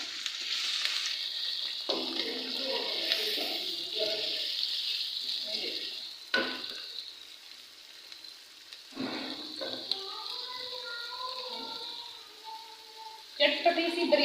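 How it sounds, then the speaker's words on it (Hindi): Onions go into hot oil for a home-made chicken dum biryani, giving a steady, close sizzle and hiss that runs throughout while someone talks over it. "ऑयल मेरा गर्म हो चुका है। मैं इसके अंदर प्याज डालने लगी हूँ।"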